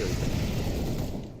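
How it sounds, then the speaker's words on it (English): A flashbang going off in CS:GO, a dense, muffled burst that fades over about a second, heard on its own without talk. "Throwing flashbang."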